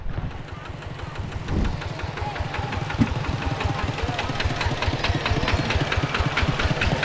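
A tractor engine chugs steadily nearby with a rapid, regular knocking pulse, continuous and loud throughout, with no talking.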